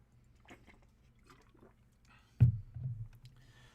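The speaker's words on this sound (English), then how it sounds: "Let's get some water before I start the read" Someone takes a drink of water: a few soft mouth clicks and small sounds, then a close gulp and swallow, quiet overall with nothing else around.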